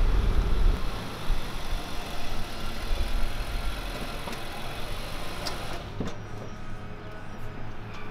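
A 2020 Infiniti QX80 luxury SUV with a 5.6 liter engine cruises along the road, its engine and road noise making a steady low rumble that continues throughout, heard from inside the cabin.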